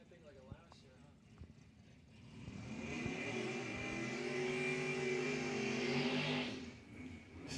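Bracket racing cars at the Mutt and Jeff Promotions 8th Annual Race accelerate hard down the drag strip. A loud engine roar builds and holds for several seconds before fading, with scattered sharp sounds before it.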